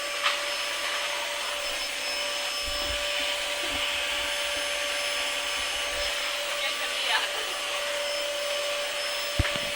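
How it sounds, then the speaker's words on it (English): Vacuum cleaner running in a room, a steady loud whirring drone with a constant high whine throughout, with a few faint bumps and no speech. "Vacuum's going."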